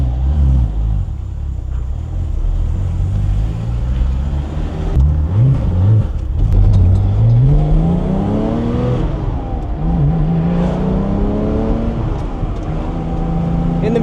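A modified Porsche 997 GT3 engine idles while warming up, then revs repeatedly, its pitch climbing and falling in several loud, close sweeps over a steady rumble.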